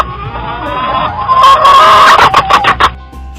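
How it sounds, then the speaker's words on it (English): A chicken clucks loudly and close, starting with a rising run of calls and then breaking into a quick series of short, choppy clucks, with no other sound around it. "beautiful chicken, guys."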